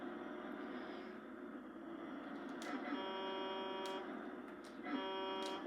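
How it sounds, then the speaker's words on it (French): A Scania truck horn in a Nintendo Switch video game honks a few times in steady bursts over a constant engine drone, with a brief louder blast near the end. "On peut aussi klaxonner, comme dans SnowRunner."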